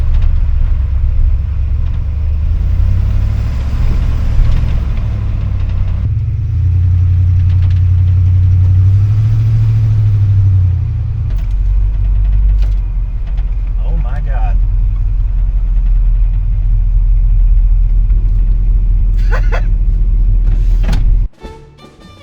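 An old truck engine rumbles loudly and shifts pitch as it revs and drives, with a voice speaking over it and a thump at the end.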